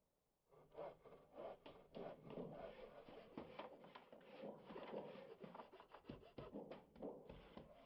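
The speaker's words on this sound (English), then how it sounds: "It says hammering, but I hear sawing." Wood is sawn in the video game Final Fantasy XVI, rapid repeated rasping strokes in a steady back-and-forth rhythm, close and fairly loud, heard alone without talk.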